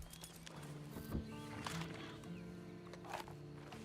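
In Red Dead Redemption 2, a horse gives a whinny alongside a few scattered clip-clops of hooves, fairly quiet and close, amid soft game ambience.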